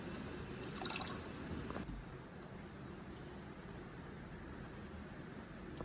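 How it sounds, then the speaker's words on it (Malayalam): Water is poured into a container of homemade rice-water fertilizer, a soft, steady rushing trickle with a couple of brighter splashy bursts early on before it settles into an even flow. "ഇതിലേക്ക് ഇനി വെള്ളം ഒഴിക്കാം"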